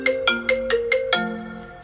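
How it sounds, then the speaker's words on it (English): A mobile phone rings with an incoming call: a loud, close melodic ringtone of six quick repeated notes, then a fading tail. "I forgot I left my phone in there. But anyways, mama called, so you know I gotta pick it up."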